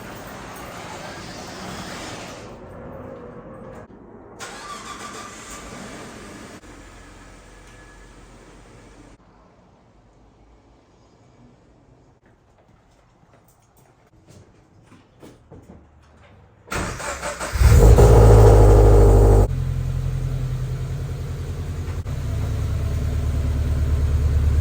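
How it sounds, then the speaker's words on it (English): A pickup truck starts and drives off nearby: a quiet stretch of low rumble, then a loud engine surge that settles into a steady idle and moving drone. "I'm gonna get my truck out of the way."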